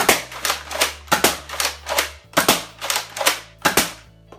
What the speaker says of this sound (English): And this is the Rampage.